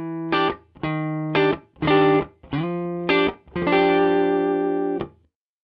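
Crunchy electric guitar through three combined simulated speaker cabinets in Guitar Rig 6 Pro hits several choppy chords in a stop-start rhythm, then lets a final chord ring out before it cuts to silence.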